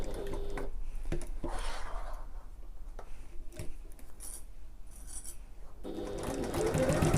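A home sewing machine runs steadily for the full stretch, stitching fabric for a sling bag around angled corners, with a continuous whirring motor and fast needle rhythm close to the mic and a brief pause near the end.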